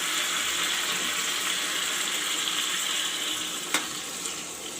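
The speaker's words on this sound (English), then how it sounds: "So I am going to add the water now." Steady hissing sizzle of water poured onto frying brinjal, potato and cauliflower in a hot pan, continuous and fairly loud, with a brief clink near the end.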